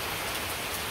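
Steady rain falls in the morning, an even hiss of drops on surfaces, loud and continuous with no voices.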